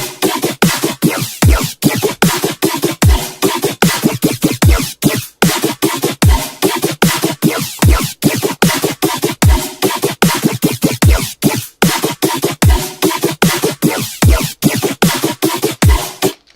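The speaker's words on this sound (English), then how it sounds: "it sounds like this massive array of pitched wavetables just going through each other." A heavily detuned wavetable synth patch in Xfer Serum plays loud, buzzy, stuttering pulses in a fast steady rhythm, with dense layered tones sweeping through one another for the whole stretch and no voices.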